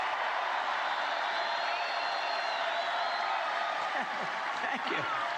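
A large rally crowd cheering and applauding in a played recording, a dense, continuous roar of voices with whoops rising through it.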